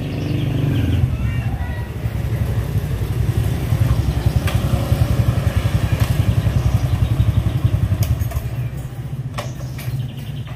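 A motorcycle engine idles and rumbles steadily up close, its throbbing beat continuous throughout.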